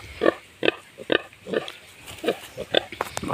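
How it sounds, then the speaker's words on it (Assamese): A female pig on a small village pig farm grunts and oinks in short, repeated bursts roughly every half second, close to the microphone, with faint background sounds between calls. "এইটো মাইকী গাহৰি মোৰ।"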